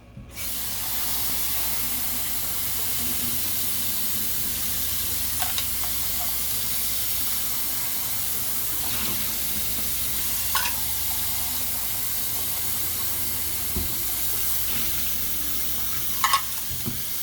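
A hot pan coated with caramel for flan is plunged into water, releasing a long, steady hiss of steam that continues evenly, with a few faint clinks and bubbling pops over it.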